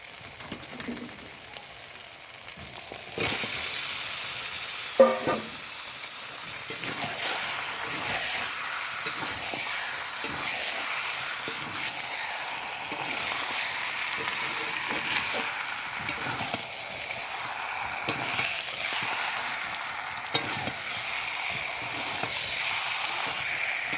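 Chicken pieces frying in hot spiced oil in a pan, a steady loud sizzle with intermittent stirring scrapes, the hiss swelling after the meat goes in.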